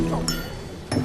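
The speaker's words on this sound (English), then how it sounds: "his glass dropped to the floor at a state banquet in 2003" A drinking glass falls to the floor at a formal state banquet, giving a short clinking crash followed by a second clatter about a second later, with faint room murmur between.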